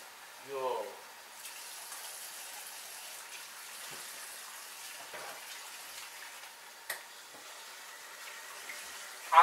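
Steady, faint hiss of water running from a tap, with a brief voice at the start and a small knock near the end.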